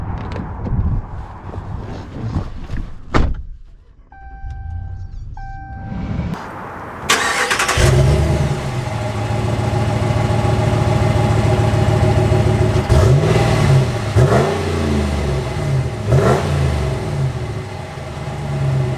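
An original Ram Limited pickup truck cranks and its engine catches after a quiet pause, then idles and revs loudly as the truck pulls away, a sustained close engine drone with gear-change swells.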